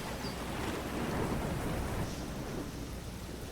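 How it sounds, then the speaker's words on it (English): Thunder rolls through a fantasy tabletop game scene, a deep sustained rumble mixed with steady rain and a faint wind, heard alone at moderate volume. "As you wait, you hear thunder, and you see flashes of lightning in the distance."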